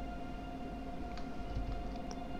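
An ICE 3 high-speed train in Train Simulator 2018 rolls slowly forward inside a station, giving a steady low rumble and electric hum with a few faint clicks.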